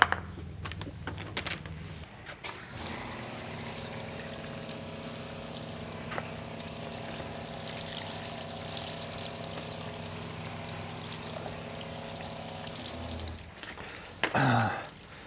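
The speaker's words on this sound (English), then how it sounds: "And then we'll rinse this off." Water is rinsed over brushed plastic car trim, giving a steady, quiet spray with a faint pump-like hum, bracketed by handling clatter at the start and a sharp splash near the end.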